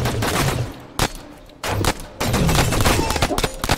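Rapid gunfire rattles in the Robot Explorer video game, with loud repeated bursts of shots separated by short pauses, close and dense throughout.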